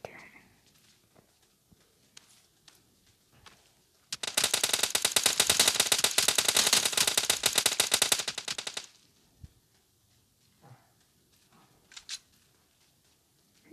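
A sustained burst of rapid automatic gunfire from a video game, loud and steady for several seconds, with quiet clicks, soft footsteps and occasional talk before and after.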